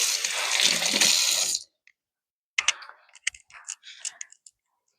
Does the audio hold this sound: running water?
yes